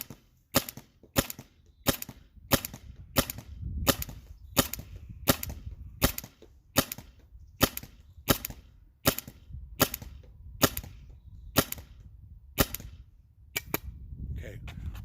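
First Strike paintball rounds fired from an EMF100 marker: about twenty sharp, evenly spaced pops, each a sudden crack, close and loud over a low background rumble.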